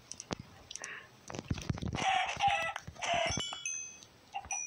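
Minecraft chicken clucking in short bursts amid game sound effects of hits and footsteps, with a player's voice audible between the clucks.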